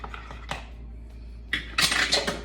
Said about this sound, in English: I'm gonna mix this with a spoon now